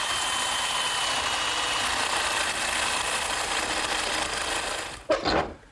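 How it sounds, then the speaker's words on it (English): A handheld jigsaw with a metal-cutting blade buzzes steadily through aluminum angle for about five seconds, a loud, even rasp that stops abruptly, followed by a brief clunk. "I'm going to make this cut first, just using my handheld jigsaw and a metal cutting blade."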